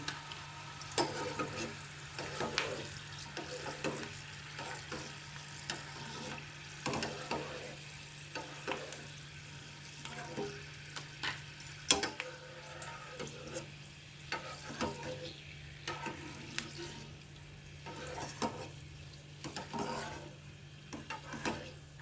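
Corn flakes fry in oil with a soft continuous sizzle, punctuated by frequent stirring scrapes and light clinks of a utensil against the pan, fairly faint and close.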